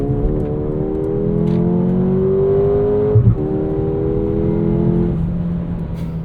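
A 2024 Mercedes GLA 35 AMG launches from a race start, its engine droning as the pitch climbs steadily through the revs, with quick automatic gear shifts dropping the tone twice before it rises again.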